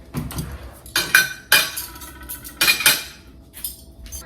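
Elegant silverware clinks and scrapes against plates and dishes at a home brunch table, several bright sharp clinks in irregular bursts, close and loud with quieter handling between them.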